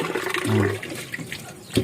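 Flood water flowing and rushing in a short, close burst of liquid noise, fairly soft and steady with a brief surge near the end.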